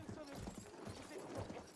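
Horse hooves in the Battlefield 1 video game as a mount climbs steep rough terrain: a quick, uneven clip-clop, fairly faint and blended into busy, noisy game sound.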